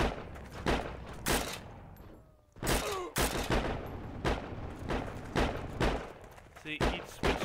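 Rapid bursts of gunfire in the World War II shooter game Heroes and Generals, loud, repeated shots in quick succession with a short lull partway through.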